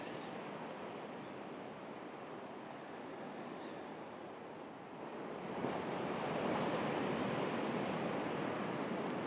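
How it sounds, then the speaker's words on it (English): Ocean surf rushes continuously, swelling louder about halfway through as a wave breaks, with no voices. "You can listen to the birds, you can listen to the ocean"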